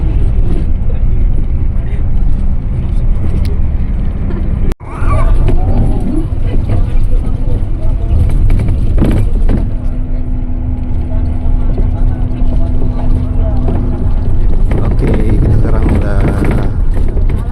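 Primajasa intercity bus speeding along a highway, a steady loud engine and road rumble with wind noise throughout, while passengers talk in the cabin.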